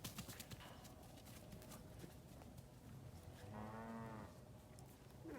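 A horse's hooves clip-clop at a steady walking rhythm, faint and continuous throughout, and a brief tonal animal call rises over the hoofbeats partway through.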